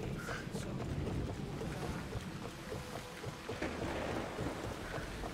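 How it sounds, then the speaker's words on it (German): Steady rain pours in the Assassin's Creed Odyssey game world, a continuous broadband wash with low rumbling underneath like distant thunder, even and unbroken from start to end. "Das regnet immer noch, okay."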